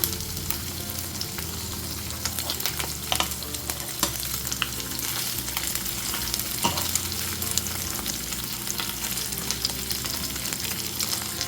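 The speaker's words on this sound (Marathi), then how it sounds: "आता ह्या तुपामध्ये आपण हा पनीर फ्राय करून घेऊया" Paneer fries in ghee in a pan with a steady, busy sizzle, broken by occasional stirring scrapes and clicks, close by and without any talk.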